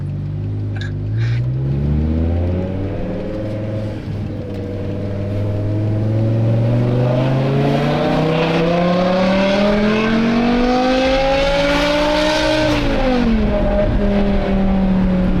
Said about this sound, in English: Sounds like a proper sports car. That whine, bro.